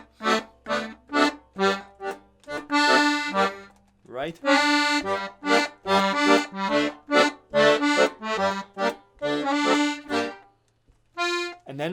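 A lively instrumental solo of quick melodic runs and held notes over a chordal backing, played steadily with brief pauses, and one short spoken word near the end.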